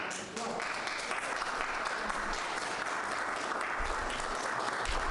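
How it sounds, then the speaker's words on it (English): Sustained applause from a crowd in the president's room on the Senate side of the Capitol during a U.S. presidential inauguration, greeting the president and vice president, with a commentator's voice faintly underneath. "pause for applause."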